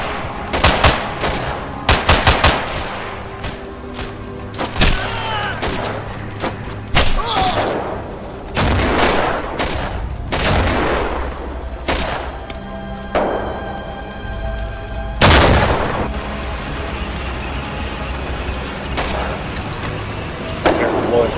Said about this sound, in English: Careful, MG on the right side of the road.